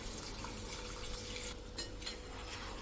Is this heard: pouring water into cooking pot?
yes